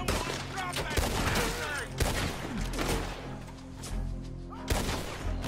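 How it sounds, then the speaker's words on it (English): Gunfire in Red Dead Redemption 2 rings out as a dense, loud fusillade of repeated shots with sharp cracks and booming impacts, continuing throughout amid game noise and a little speech. "Bullets are flying everywhere"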